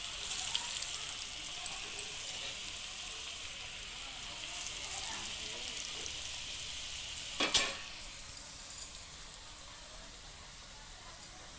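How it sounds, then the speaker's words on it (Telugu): Boiled potatoes fry in hot oil with a soft, steady sizzle, plus a faint stir or scrape partway through, heard fairly quietly with no talk. "ఇప్పుడు ఆ నూనె బాగా మరిగాక ఈ ఉడకబెట్టుకున్న బంగాళదుంపలు వేద్దాం"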